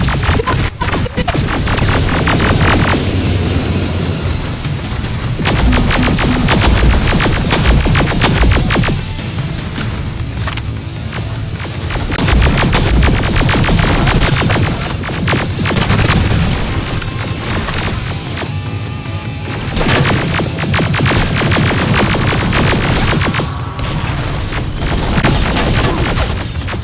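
Relentless gunfire and heavy explosions in Terminator Resistance, a loud, dense, booming battle din that barely lets up, with repeated surges of blasts and rattling shots throughout.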